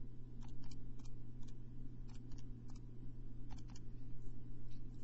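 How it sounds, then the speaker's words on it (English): Keys on a TI-83/84 graphing calculator are pressed in a quick series of light plastic clicks, some in pairs, close up over a low steady hum, with no voices. "So I'm going to go back to y equals, type in my equation"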